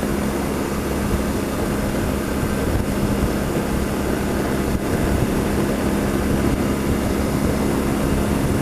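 Several LT touring motorcycles riding past on a canyon road, a steady broad engine drone holding loud and close throughout without a clear rise or fade.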